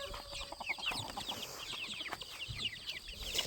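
Bantam chickens cluck and chatter close by in short, repeated bursts, with no talking.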